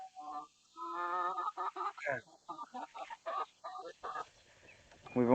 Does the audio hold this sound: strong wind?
no